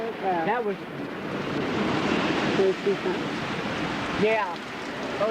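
Strong hurricane-force gusts during Hurricane Irene roar as a steady, loud broadband rush with surging swells, while people talk excitedly over it.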